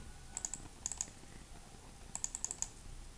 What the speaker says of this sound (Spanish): Al darle clic, doble clic